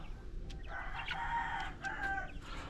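Young chickens, about thirty-two small birds, in a roomier coop after leaving the brooder, give a few high calls and peeps in short bursts over a steady low rumble of background noise.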